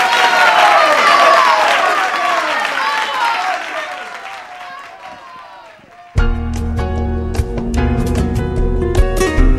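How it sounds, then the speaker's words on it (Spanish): Audience applause and cheering at a live show fill the first six seconds, then fade as music starts abruptly and carries on to the end. "Fuerte el aplauso para él."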